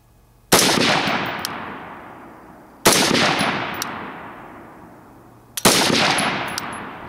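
Three loud gunshots from a firearm loaded with Wolf primers, each a sharp blast with a long decaying tail, spaced roughly two and a half seconds apart with silence in between.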